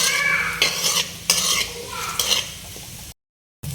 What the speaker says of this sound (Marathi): 2 चमचे तेलामध्ये आपण कांदा सर्वात आधी परतून घेऊयात।